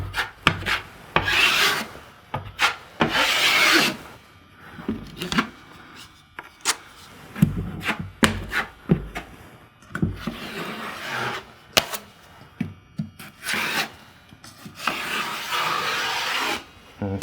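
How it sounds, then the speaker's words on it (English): Drywall knife spreading joint compound over drywall seams, repeated rasping scraping strokes in irregular bursts with short pauses, close up, with occasional faint knocks of the blade. "So just getting mud on the seams right now."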